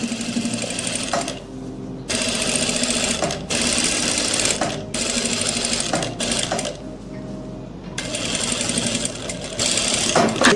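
A sewing machine stitches a double seam on a kurti sleeve in several loud bursts of rapid clatter, broken by short pauses between runs.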